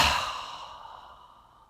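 One forceful exhale through the nose as the abdomen pushes in against the spine to cleanse the lungs, a sharp breathy burst that fades smoothly over under two seconds, close and alone.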